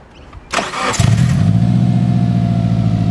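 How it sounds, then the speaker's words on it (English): A car engine cranks and fires after a cold air intake install, a short starter whir followed by a loud catch and settling into a steady, close idle. "It's time to start up the car"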